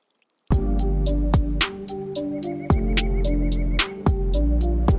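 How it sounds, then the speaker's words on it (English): Water drips from a watering can at a slow, irregular pace, each a sharp plink over a steady low hum. "a little bit of a drip sound for the watering can"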